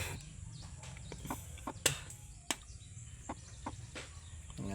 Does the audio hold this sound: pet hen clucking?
yes